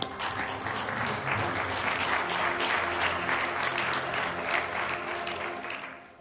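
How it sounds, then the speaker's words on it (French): Steady audience applause in a theatre during a stage play, a thick continuous wash of clapping from many hands at even volume for several seconds before fading slightly at the end. "Merci Miguel, on peut l'applaudir"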